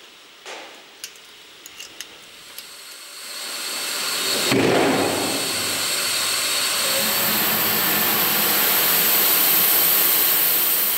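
Steam is sent into a sealed lavender distillation vat: after a few faint clicks, a loud, steady hissing rush builds and holds, a continuous roar like a jet engine.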